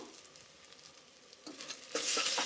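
Ginger garlic paste hits hot oil in a pan, where quiet stirring builds into a loud, steady sizzle during the last half second, heard alone with no talk.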